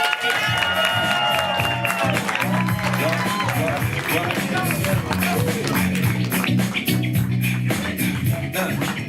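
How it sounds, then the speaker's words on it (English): An audience at a live event claps for volunteers: a dense, continuous patter of applause runs throughout beneath a speaker's voice. "Hey, clap for our volunteers."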